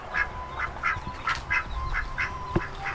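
Ducks in a rural village in Tasikmalaya quack repeatedly in a steady, close series of nasal calls over light outdoor background noise.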